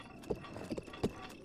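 A few soft hoof clops from a horse in Zelda: Breath of the Wild, three or four spaced steps, faint and close over a quiet background.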